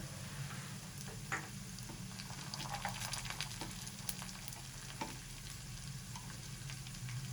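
Cumin seeds sizzle in hot oil, a steady low crackle dotted with small pops and light stirring taps, close and fairly quiet with no talking.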